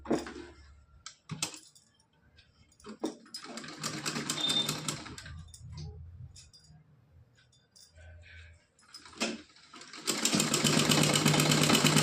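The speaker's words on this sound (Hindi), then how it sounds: "यहाँ पे सीधी सिलाई लगा के इसको दिखाएंगे।" A sewing machine runs a straight seam on a small cotton dress for Laddu Gopal, in two close bursts of rapid stitching separated by quiet clicks and handling noises.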